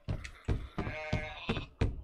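Sheep bleat by the water in a video game: five short, clear bleats in a quick, uneven series, close and alone.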